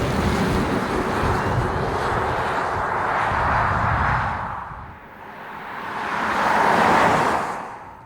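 A Volkswagen ID.5 GTX all-wheel-drive electric SUV coupe on the move, giving a steady broadband road and wind rush that swells, dips and rises again, with no talk.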